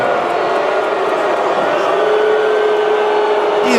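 An arena crowd at a Dallas Mavericks home game reacts as the team's owner walks courtside, a loud, steady roar of massed voices filling the space without pause.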